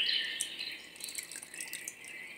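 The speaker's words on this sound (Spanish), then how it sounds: "Ahí está, le ponemos tantita agua." Cold water trickles from a container into a bowl of dough mixture for puff pastry banderillas, a thin steady pour with small drips and splashes, close and fairly quiet, with no voices.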